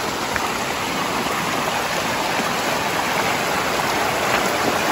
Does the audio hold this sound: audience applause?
no